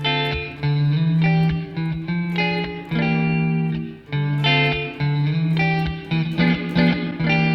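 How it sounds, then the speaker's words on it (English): An electric guitar played through the Plate reverb setting of an Eventide Space reverb pedal plays chords and short melodic phrases soaked in a bright, lingering reverb, with notes ringing out between strums. "I'm going to start with the basic one, the Plate reverb."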